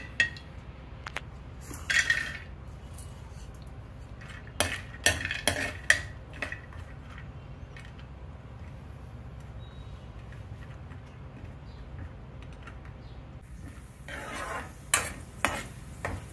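Cashew nuts frying in hot ghee in a pan while being stirred with a metal spoon, with scattered clinks and scrapes of utensil on the pan over a faint steady sizzle, busier at the start and end.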